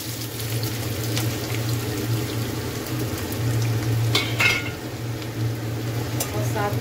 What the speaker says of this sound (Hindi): और अब हमें प्याज को ब्राउन होने तक भून लेना है, गोल्डन ब्राउन होने तक।